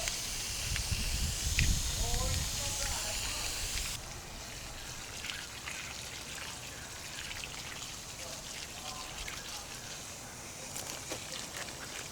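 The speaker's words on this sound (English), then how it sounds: "I'm going to come through and just continue watering" A garden hose waters rows of sweetcorn, giving a steady close hiss and patter of spray on plants and soil that continues throughout.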